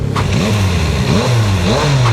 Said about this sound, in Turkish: arkadaşlar tam egzoz dinleme yeri bakın